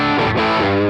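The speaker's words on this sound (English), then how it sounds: "This is this humbucker split" Electric guitar played through an amp model on a ToneX modeler with the humbucker pickup split, a sustained distorted chord ringing steadily and loud with rich overtones for the whole moment.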